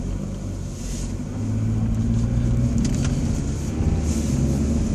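A car cruises along a rural home road in town on a clear day, heard from inside as a steady low engine and road rumble that swells slightly after the first second and holds evenly, with no speech.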